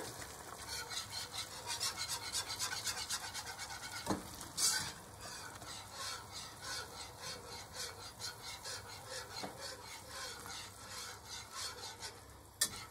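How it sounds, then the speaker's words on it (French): Melting Comté cheese is stirred in a pan for chicken Gaston Gérard, producing a soft, continuous scraping and sizzling with a few sharper knocks of the utensil against the pan. "Je remue."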